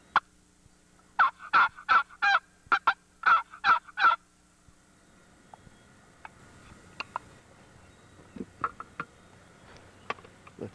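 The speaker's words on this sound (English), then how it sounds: "Got some gobbling off to the northeast in this direction." Wild turkey gobbling, a rapid burst of about eight loud gobble notes, followed by scattered faint clicks and ticks in a quiet outdoor setting.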